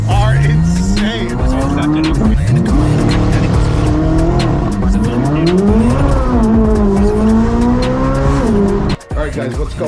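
A new 2024 Harley-Davidson Road Glide motorcycle engine roars loudly and continuously up close, its pitch rising and falling through repeated downshifts and revs before cutting off abruptly near the end.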